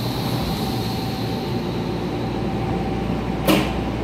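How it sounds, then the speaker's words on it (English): Steady rumble and hum of a Miami airport train car in motion, a constant low drone with a brief louder whoosh near the end. "This is a cool train."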